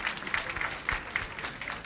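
Steady clapping from an audience at an evening awards ceremony, fairly faint and even, with no voices standing out.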